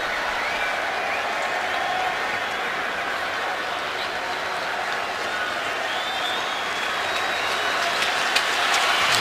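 Stadium crowd at an NFL football game between the Steelers and Raiders, a steady broad roar of voices that swells slightly toward the end, with no clear speech.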